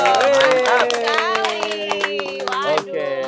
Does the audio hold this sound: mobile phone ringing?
no